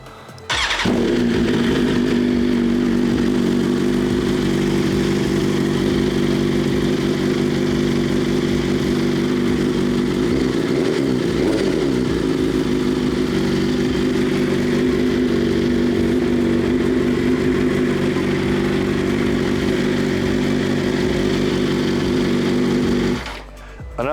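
A tuned custom superbike engine runs steadily at close range, a loud continuous lumpy, uneven idle throbbing for most of the span before cutting off at the end, with no talking.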